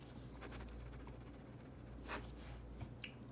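A 0.4 mm Hi-Tech C refill fitted in an Ohto Horizon pen writes across paper in a quiet, steady, close scratching glide, with a few brief louder strokes near the end.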